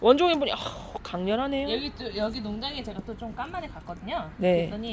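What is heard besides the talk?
No everyday noises stand out.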